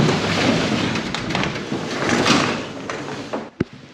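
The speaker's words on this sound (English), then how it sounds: "Maybe if I open the door." A door swings open in a newly built farm workshop, giving a long, loud rumbling scrape that runs for several seconds and ends in a sharp knock, with no voices.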